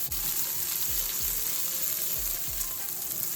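Crab with onion and salt sautés in a pan, a loud, constant sizzle with low, regular thumps from stirring repeating roughly every half second.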